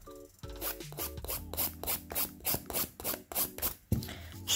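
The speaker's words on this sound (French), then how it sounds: "Je commence par mes cutis. Et je tiens ma lime un peu inclinée comme ça." A nail file rasps back and forth around the cuticle edge of a gel nail, the file held slightly tilted, in a steady run of about ten close, even strokes with no talking.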